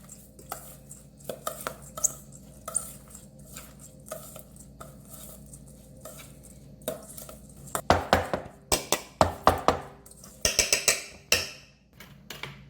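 Utensil scrapes and clinks against a bowl while a quinoa salad seasoned with salt and pepper is tossed, soft and sparse at first, then a run of louder rhythmic knocks and scrapes close by.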